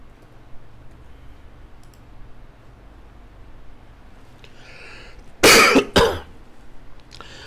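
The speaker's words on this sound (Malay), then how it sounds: "cikgu ni duk batuk lah" A teacher coughs twice in quick succession, sharp and close, after a long stretch of quiet room tone with faint clicks and a soft throat sound.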